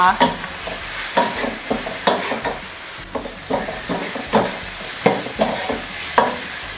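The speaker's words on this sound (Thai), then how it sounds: "เดี๋ยวเราจะผัดมะเขือให้สุกก่อน" Repeated scraping and clatter of a spatula stir-frying eggplant in a hot pan, with a steady sizzle underneath and rhythmic strokes every half second or so.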